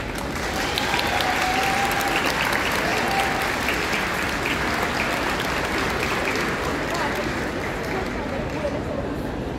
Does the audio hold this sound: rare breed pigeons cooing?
no